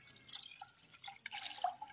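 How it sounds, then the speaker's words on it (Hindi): Water poured into a hollowed-out watermelon, giving a faint, uneven trickling and splashing with small drip-like plinks over two seconds, with no talk. "ये पानी डाल दिया हमने"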